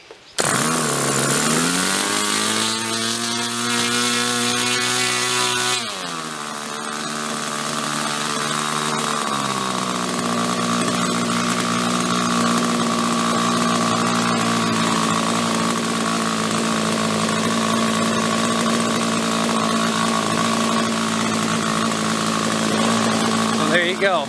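A Nexstar Select nitro RC plane engine runs close by, a loud buzzing drone that rises and dips in pitch early on, then holds a steady high whine.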